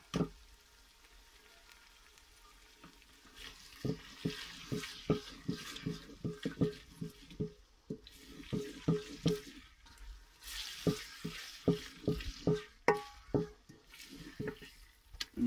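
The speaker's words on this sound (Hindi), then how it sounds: "मसाले को अच्छी तरह भूनें।" Spices and tomato for a potato curry frying in a pan, a soft steady sizzle broken by repeated scraping, stirring clicks of a spoon against the pan, close and alone.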